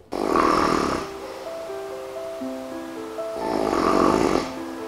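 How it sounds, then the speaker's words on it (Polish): A person snores loudly twice, each long rasping inhale swelling and fading, close to the mic, with a steady tonal electronic beeping sequence sounding between the snores. "Trzeba bardzo potężnie chrapnąć, żeby zadziałało."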